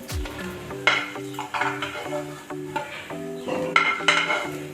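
Cabbage koftas fry in a pan, with soft bubbling sizzle under repeated clinks and scrapes of a utensil stirring in an irregular rhythm, close and fairly quiet, with no talking.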